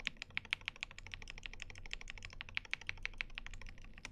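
Rattly stabilizers on a KBD67 Lite mechanical keyboard with Durock V2 stabs and JWK L Series switches, clacking in a steady run of about two dozen close, crisp keystrokes with no talking.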